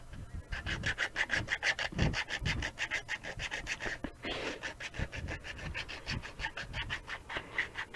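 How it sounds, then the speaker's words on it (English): Hand sanding with rapid back-and-forth rasping strokes in a steady rhythm, close and fairly loud, with a brief pause midway before the scrubbing resumes. "Just sanded my fingernail."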